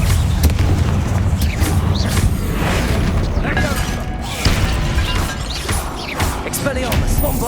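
Bombarda blasting spell explosions inside a catacomb tomb in Hogwarts Legacy, several loud booming bursts and crashing impacts in a busy combat mix, with voices speaking between them.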